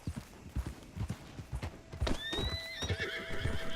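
Rhythmic clip-clop of a horse's hooves in a Western video game, joined midway by a loud, drawn-out whinny with a clear rising and falling pitch, both close by and steady.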